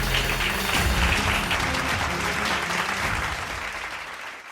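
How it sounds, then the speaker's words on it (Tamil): A church congregation at a Tamil Sunday service bursts into sustained clapping, a dense, even roar of applause that holds steady and then gently tapers off near the end. "கைதட்டுங்க ஒருத்தர்."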